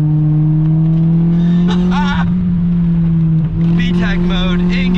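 A Honda engine revs hard and steady while driving a twisty mountain road, a loud continuous drone that climbs in pitch, with brief squealing tones, and a voice speaks over it.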